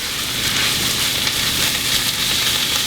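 Sauerkraut sautéing in a pan gives a steady, even sizzle with a dense hiss that holds at the same loudness throughout and has no talking over it.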